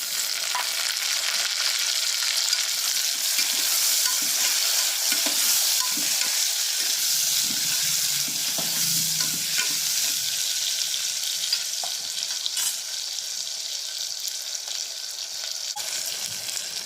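Chopped tomatoes frying in a pan for a peas rice dish, a continuous close sizzle and hiss with irregular scraping stirs throughout, steady in level, no talking.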